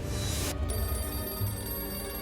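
A telephone in a phone booth rings with a steady, continuous electronic bell tone that stays loud and close for about two seconds, with no voices.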